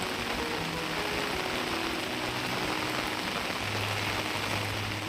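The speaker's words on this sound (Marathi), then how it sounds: "आत्ताशी पावसाला सुरुवात झालेली आहे हे बघा खूप जोराचा पाऊस आलेला आहे" Heavy rain falling steadily outdoors in a village countryside, a dense, even roar of drops on surfaces that stays loud and unbroken throughout, with no voices.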